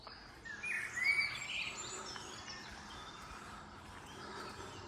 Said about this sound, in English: Lots of birds tweeting.